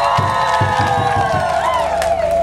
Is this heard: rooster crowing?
no